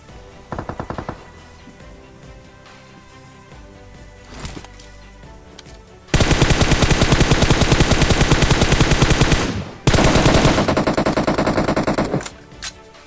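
Rapid automatic gunfire from PUBG Mobile, with a short early burst, scattered shots, then two long, loud sustained bursts close up.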